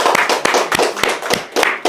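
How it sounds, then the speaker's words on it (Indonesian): Hand clapping at a live comedy show, with about a dozen sharp, distinct claps in an uneven rhythm, close and fairly loud, and no talking over them. "Tepuk tangan."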